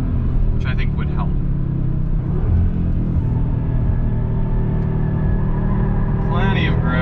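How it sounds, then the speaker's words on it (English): A 2022 Audi RS 3 engine growls low and steady as it accelerates, a continuous rumble heard from inside the car with a voice talking over it. "But it's kind of just a guttural growl rather than a howl, which I think would help."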